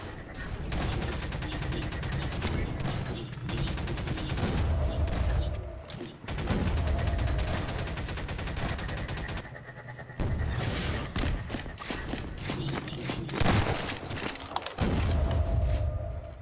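Rapid gunfire and weapon blasts from a Half-Life 2 Deathmatch match, loud and continuous with mechanical clatter and game music, including shotgun fire, with brief lulls between bursts.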